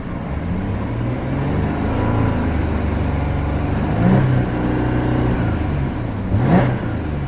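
A 2014 Audi A8L 3.0T V6 engine runs steadily and gets a quick rev, a burly mid-pitched drone that swells near the end before easing back.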